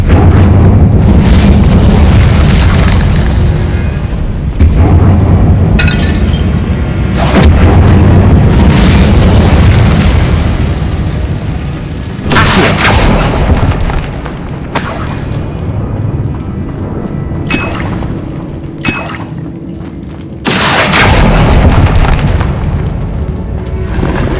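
A fire spell cast in the Hogwarts Legacy video game erupts as loud, dense booming bursts. The blasts repeat over a sustained roar, with several sharp explosive hits across the stretch.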